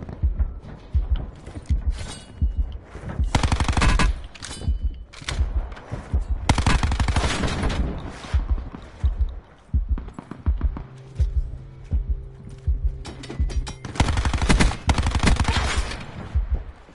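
Video game gunfire with the player under fire, rapid automatic bursts and sharp single shots in clustered volleys separated by brief lulls, with mechanical clatter between them.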